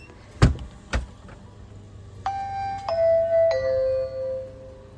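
A couple of sharp knocks, then a Vivint home security doorbell chime of three descending tones ringing out clearly and fading.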